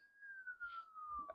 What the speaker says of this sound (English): There's a police siren.